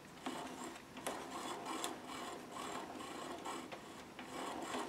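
Freshly serviced wheel hub on a self-propelled lawn mower turning, a steady low grinding rasp with faint periodic clicks, quiet and close, no voices.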